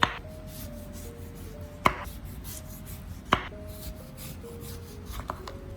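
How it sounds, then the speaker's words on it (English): A knife cuts a lemon into thin rounds on a board, with a soft rubbing rasp throughout and a few sharp, distinct chops spaced a second or two apart, close and fairly quiet. "For the lemon, I slice it into thin rounds."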